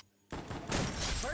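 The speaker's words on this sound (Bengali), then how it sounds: "জিলমও কিন্তু ওয়ান শটারের একটি হেডশট মেরে রাফিনের কাছ থেকে দ্বিতীয় রাউন্ডটি ছিনিয়ে নিল" A one-shot sniper headshot in a mobile shooter game tryout match, a sudden loud burst after a brief silence, then sustained harsh crackling gunfire texture over about a second.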